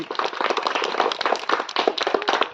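Children clap their hands together in a dense, brisk burst of overlapping claps, loud and close, lasting a couple of seconds with no talking.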